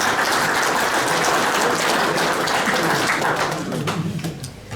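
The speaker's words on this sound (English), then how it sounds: "So give yourselves a round of applause." Audience at the Pro Football Hall of Fame Enshrinement Festival applauds in a loud, dense burst that holds steady, then thins and trails off toward the end.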